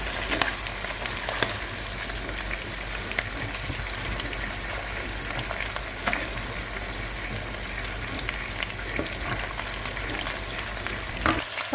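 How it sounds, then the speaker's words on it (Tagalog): Pork belly and spare ribs frying in a pan over high heat, a steady, dense sizzle with occasional sharp pops and crackles throughout, close and fairly loud, without talk. "So na-fry na ang pork belly with spare ribs."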